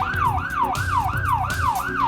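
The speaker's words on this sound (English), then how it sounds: "As I approach an intersection, I'll change the siren." A police car siren changes tone approaching an intersection, wailing in rapid repeating up-and-down sweeps, loud and close, cycling about every half second.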